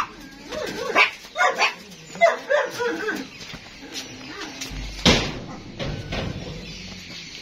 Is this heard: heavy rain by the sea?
no